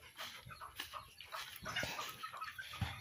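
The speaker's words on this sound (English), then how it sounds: "Look the chicken." Chickens cluck inside a backyard chicken coop, with soft, close calls mixed into a busy, noisy outdoor background.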